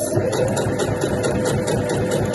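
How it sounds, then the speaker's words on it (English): A sewing machine sewing the base onto a weekender bag with a 1.5 centimetre seam allowance, giving a continuous, loud, close whirring hum that holds steady throughout without a break. "we're now going to take that over to your sewing machine to sew the base on"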